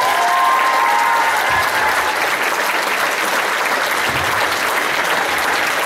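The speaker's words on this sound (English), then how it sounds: "can we have a big round of applause for my mum?" Sustained applause from a dance show audience, a dense steady wash of clapping that stays loud and even throughout, with faint crowd murmur beneath.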